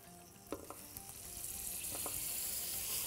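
Butter sizzles and fries in a pan at the start of cooking seasoned rice, a steady hiss that builds gradually, broken by a few sharp crackles and pops from the melting fat.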